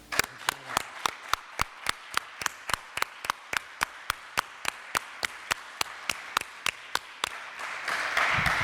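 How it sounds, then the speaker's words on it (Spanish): Audience welcoming a composer and singer, with a run of sharp, evenly spaced claps about three per second, crisp and fairly close, turning into a denser spatter of applause near the end. "recibamos con un fortísimo aplauso"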